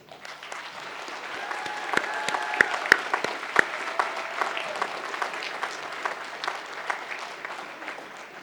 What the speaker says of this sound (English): start off with a big cheer for all the family and friends who are with us